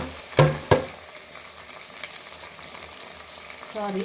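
Mixed vegetables frying in oil for sambar, a soft sizzle under two sharp spoon clatters near the start, then quiet stirring and a brief scrape at the end.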